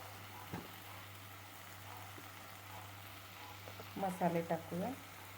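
Masala spices, red chilli powder and coriander-cumin powder, hiss and sizzle as they hit hot oil in a pan for pav bhaji, a steady low frying sound with a person talking over it.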